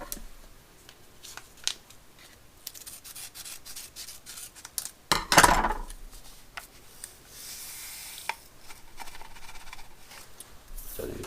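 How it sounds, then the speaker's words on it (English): A package of yeast being torn open while making focaccia bread, with dry rustling and rubbing of paper and a sharp rip near the middle, fairly close and alone. "open up the package of yeast"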